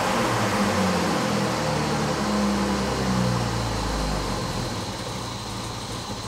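The engine of a Mercedes W116 idles steadily just after carburettor tuning, a continuous low rumble and hum heard close and fairly loud, easing off slightly toward the end, with no voices.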